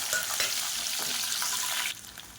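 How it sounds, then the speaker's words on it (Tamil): Finely chopped small onions fry with fennel, curry leaves and dried chillies for a tomato kuzhambu, a close bright sizzle with stirring scrapes that drops suddenly quieter near the end. "இப்போ பாருங்கள், வெங்காயம் பொன்னிறமாக வதங்கிடுச்சு."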